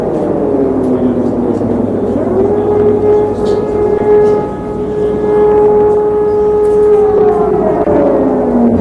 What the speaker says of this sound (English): This was the scene in Tel Aviv earlier this evening as the air raid sirens sounded